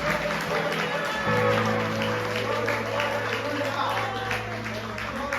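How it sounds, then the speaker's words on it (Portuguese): Members of a church congregation clap together during worship, a busy wash of hands under a steady tonal hum, with voices speaking over the clapping. "Aplauda mais forte em nome de Jesus"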